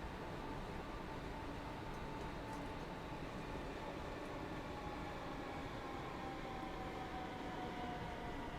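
A Class 323 train running in Train Sim World 3, a steady low rumble with a faint rising whine carried along throughout, alone and fairly quiet.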